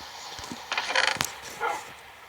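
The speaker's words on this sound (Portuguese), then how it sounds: "Ó, os cachorros latindo, tá escutando?" A few short dog barks ring out at a moderate distance, irregular and brief, over quiet background noise.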